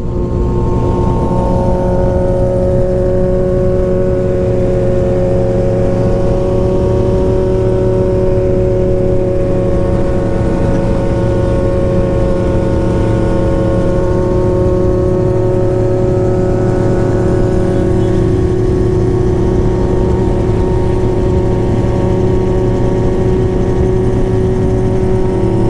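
A motorcycle engine drones steadily and loudly at close range for the whole stretch, holding a constant pitch with no talking over it.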